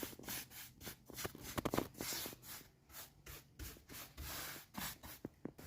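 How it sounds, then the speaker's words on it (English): Varathane Provincial wood stain is rubbed onto plywood for a shiplap fireplace wall, producing faint, rhythmic brushing and wiping strokes that repeat steadily. "I'm going to start staining and we'll see how that looks"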